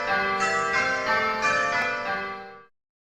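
Simulated church bells in Abel change-ringing software playing call changes, a bright sequence of clear struck bell tones in even succession, overlapping and ringing on before stopping abruptly into silence.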